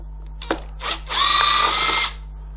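A cordless power drill spins out screws on a Kirby G3 vacuum being stripped for parts, with two short bursts followed by a steady, close whirring run lasting about a second.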